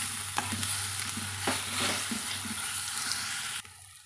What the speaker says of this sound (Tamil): இந்த கோங்குராவை எடுத்து இதில் சேர்த்து வதக்கலாங்க